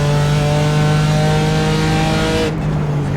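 A BMW M4 in a racing simulator laps the Nurburgring with a loud, steady, high engine drone at sustained revs, cutting off abruptly near the end as the throttle lifts.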